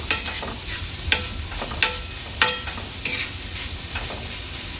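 Onion frying in oil in a pan, a steady crackling sizzle broken by repeated scraping strokes of a spoon stirring, close and fairly quiet, with no talk.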